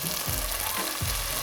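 Red kidney beans tipped into a hot pan for homemade rajma, giving a steady broadband sizzle with a couple of low thuds as they land, close and continuous with no talking.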